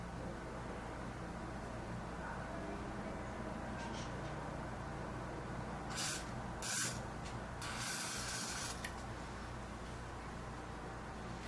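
Hairspray hisses in several short bursts onto a long mustache, faint close-up sprays that come in clusters over a few seconds against a quiet room hum.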